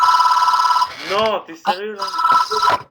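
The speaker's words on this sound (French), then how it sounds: "c'est le téléphone." A telephone rings in a steady electronic pattern during a Dofus Kolizeum game session, stopping as excited voices cut in and then resuming briefly near the end.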